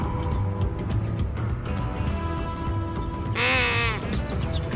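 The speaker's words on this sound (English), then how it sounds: "I want you to blow into that duck call." A duck call blown once in a short, wavering quack-like burst, loud and close, rising out of steady crowd murmur and background chatter in a busy room.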